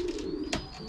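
A racing pigeon gives a soft, low coo close by after returning from a 350 km race, with a brief sharp rustle or flutter midway, faint and without talk.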